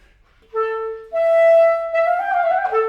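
Slowed clarinet quintet passage in which a sustained clarinet-like melody line is echoed by strings, viola and cello copying the tune; clean, close, smooth legato notes entering one after another with no talking.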